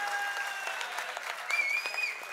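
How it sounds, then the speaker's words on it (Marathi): Audience applause fills a prize-distribution ceremony hall, a steady dense clapping that holds for a couple of seconds, with a brief tonal ring over it near the end. "त्यांच्यासाठी एकदा जोरदार टाळ्या होऊन जाऊ दे"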